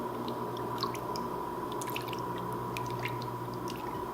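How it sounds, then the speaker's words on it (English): Rhubarb lemonade being stirred in a container, cooled rhubarb juice mixed into water, giving soft steady liquid sloshing and faint dripping with a few light clinks, continuous and close with no talking. "And then you're going to mix it up really well."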